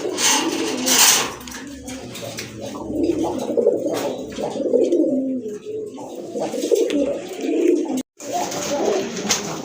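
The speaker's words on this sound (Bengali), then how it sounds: "খুব ভালো সাইজের কবুতর, ভালো কোয়ালিটির কবুতর" Large Indian Bombay pigeons coo steadily at a pigeon sale, soft rolling calls repeating close by with other birds chirping faintly around them.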